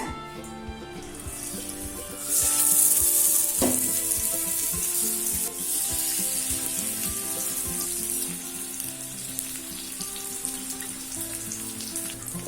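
Raw plantain slices fry with curry leaves in a kadai, a loud continuous sizzle that surges as the plantain goes in, with spatula scrapes and stirring clatter throughout and no talk.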